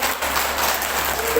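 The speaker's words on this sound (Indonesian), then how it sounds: "tepuk tangan dari ibu" A short burst of continuous audience applause at a stage event, steady and moderately loud throughout the brief clip.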